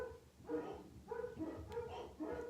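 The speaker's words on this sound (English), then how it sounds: "They're probably just barking at a human." Dogs bark at home, a rhythmic series of about four moderate barks at a medium distance against a quiet background.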